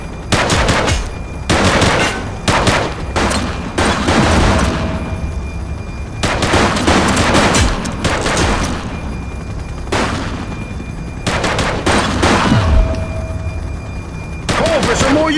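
Sustained exchange of gunfire in a police shootout in the video game The Precinct, loud automatic bursts in repeated clusters with brief lulls, dense and close throughout.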